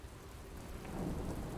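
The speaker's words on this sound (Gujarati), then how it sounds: "ખાંભાગીરના ગામડાઓમાં પણ ધોધમાર વરસાદ થયો છે" Heavy downpour in the villages of Khamba Gir, Gujarat, during a monsoon rain spell, a dense steady roar of rain with a low rumbling undertone that swells slightly midway, no voices.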